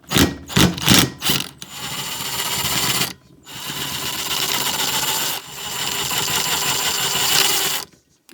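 Fan being unscrewed and pulled off a diesel heater, with several sharp clicks and knocks at the start, then a steady close scraping, rasping mechanical noise with a short break, ending abruptly.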